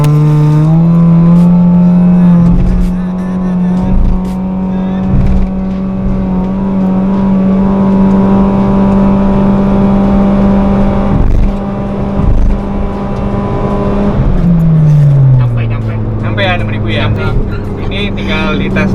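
A remapped Honda Brio Satya engine revs hard toward 6000 RPM. Loud, close and sustained, its pitch climbs, holds, then drops and wavers, with a voice heard faintly under the engine.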